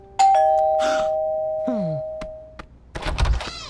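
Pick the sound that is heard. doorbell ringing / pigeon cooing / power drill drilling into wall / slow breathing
doorbell ringing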